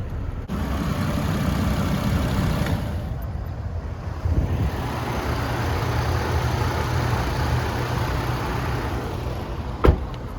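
A Chevrolet TrailBlazer engine runs steadily nearby, a dense low rumble holding constant with a brief sharp click near the end.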